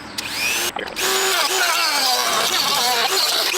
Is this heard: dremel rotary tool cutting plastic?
yes